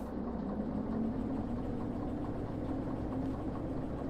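A locomotive engine runs steadily in the Derail Valley train game, a continuous moderately loud mechanical drone with a low throbbing hum and no voices.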